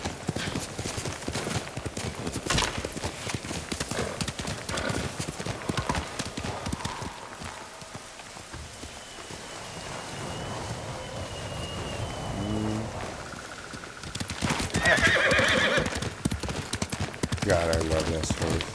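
A horse gallops in a video game with steady clip-clop hoofbeats under pattering rain, with a whinny partway through and a voice talking over the action at times.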